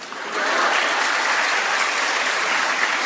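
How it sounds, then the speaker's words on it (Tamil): Dense, steady applause from many hands clapping, rising quickly at the start and holding loud and even to the end with no voices. "கை தட்டுற."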